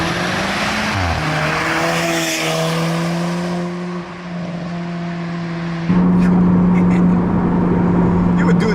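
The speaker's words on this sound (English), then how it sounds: "That race mode is absolutely insane, that launch" A 2015 Alfa Romeo 4C on Pirelli P Zero tires launches hard in race mode, its engine droning loud and close as the pitch climbs and shifts through the gears, with a voice talking over the run.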